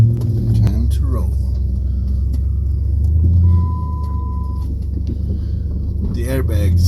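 A car idles and then rolls away with a steady low engine rumble and wind noise up close. Someone talks over the engine at the beginning and again at the end.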